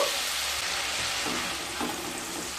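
Spices for a vegetarian soybean curry sautéing in a pan with a little water over low to medium heat, a steady soft hiss with faint scraping as they are stirred.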